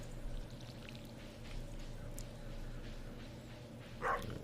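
A watering can pours water in the Stardew Valley farming game, a soft sloshing stream heard faintly over quiet background music, with a brighter splash near the end.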